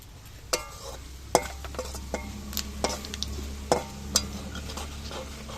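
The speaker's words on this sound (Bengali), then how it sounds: "তেজপাতা আর শুকনো লঙ্কাটা ভাজা হওয়ার পর এর মধ্যে দিয়ে দিচ্ছি কিছু গোটা জিরে।" Hot oil sizzling softly as whole cumin seeds fry, punctuated by several sharp clinks and scrapes of a spoon against the pan.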